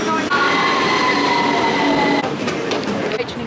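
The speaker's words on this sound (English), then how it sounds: "We're getting on a train and we're going into London" Passenger train heading into London, heard from inside the carriage as a constant heavy rumble with sustained wheel squeal and a brief shift in tone near the end.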